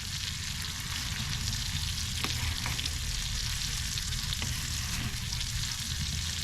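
A thick steak frying on a hot tent camping stove, a constant loud sizzle with a low rumbling hiss beneath and a few faint ticks, no talk.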